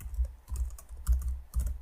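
Fingers type on a computer keyboard in quick clusters of soft, close key taps separated by short pauses.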